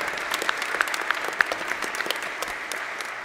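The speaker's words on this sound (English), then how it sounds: "Let's give a warm round of applause to our First Communion children." A congregation at Sunday Mass applauds the First Communion children, warm scattered clapping with distinct sharp claps in a reverberant church that gradually eases off.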